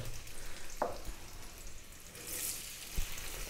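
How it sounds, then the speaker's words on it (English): Potatoes shallow-fry in hot sunflower oil, giving a soft, steady sizzle that stays fairly faint. A couple of small clinks and taps punctuate the frying. "We're going to shallow fry like this."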